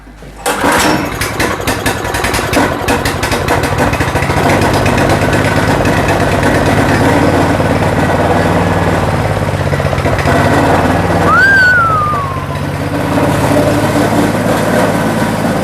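A small gasoline engine on a wheelbarrow starts up and runs steadily at a loud, constant idle, with a brief rising whine partway through.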